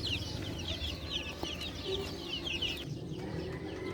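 Chickens on a chicken farm cluck and chirp continuously through the clip, a busy flock heard fairly close over a low steady background rumble.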